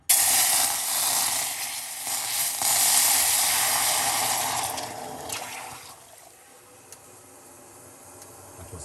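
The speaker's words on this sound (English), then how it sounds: "Then we're gonna do hot water." Hot water poured for a lemon, garlic and clove tea, a steady bright splashing stream that runs loud for about five seconds, then thins to a quieter trickle with small ticks and clinks.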